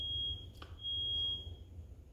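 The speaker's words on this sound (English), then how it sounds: "That's a fire alarm" A steady, piercing high-pitched alarm tone sounds faintly and continuously, with a brief click partway through, over a low background hum.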